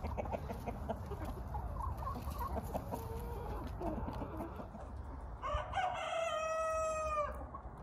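Young chickens on a smallholding, hatched in late August, cluck steadily throughout, and a rooster crows loudly near the end with a clear drawn-out call.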